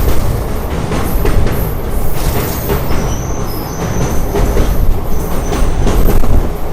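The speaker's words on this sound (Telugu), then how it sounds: "సో మనం వచ్చేసి ఇప్పుడు పెన్నా రివర్ మీద డ్రైవ్ అవుతున్నాము" A special train runs over the Penna river bridge, with steady loud rumbling, wheel clatter and occasional high metallic squeals, continuous and close with no talking.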